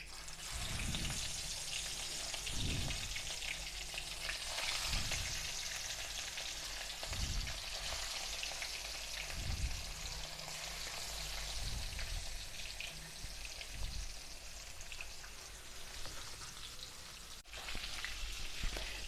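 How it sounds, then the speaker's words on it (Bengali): Rohu fish pieces fry in hot oil in a wok for a dhaba-style fish curry, giving a continuous, close sizzle with crackling spatter and soft low thuds recurring every couple of seconds. "এখন একে একে সব মাছগুলোকে আমি দিয়ে দিচ্ছি।"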